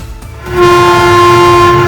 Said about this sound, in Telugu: రైలు బండి బయలుదేరింది